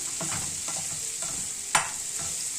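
Fried liver and fried potatoes are turned in a pan over a steady soft sizzle, with light scraping stirs and one sharp clack of the utensil against the pan.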